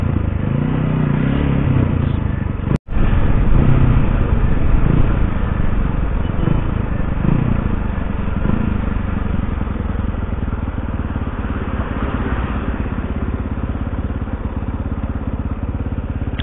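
A Bajaj Pulsar NS motorcycle engine drones steadily and loudly while riding, with a constant mid-range rumble and slight swells. There is one abrupt brief dropout near the start.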